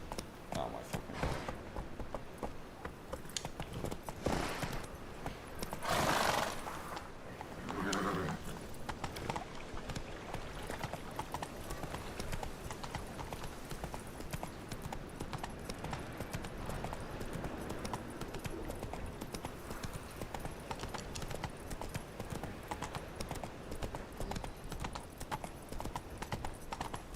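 Roach, Geralt's horse in The Witcher 3, gallops with dense, continuous clip-clop hoofbeats under layered game ambience and music, with a few louder bursts of sound early on and a voice at times.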